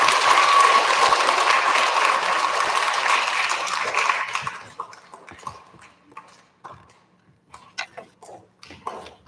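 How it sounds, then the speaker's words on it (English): An audience at the A F Palmer recognition ceremony applauds STEM award recipients. Loud, dense clapping lasts about four seconds, then quickly thins into a few scattered claps and clicks. "Big round of applause for all of our STEM recipients."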